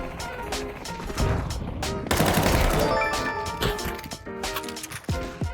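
M4A4 rifle fire in Counter-Strike 2 comes in rapid bursts of sharp, close shots, dense automatic volleys with brief pauses between them and metallic ringing tails, no voices.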